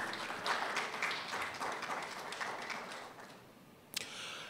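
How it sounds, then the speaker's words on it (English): A round of applause from the audience at an architects' institute annual general meeting, moderate clapping that fades out, followed by a brief sharp click near the end. "shall we say thank you with a round of applause to all of our sponsors?"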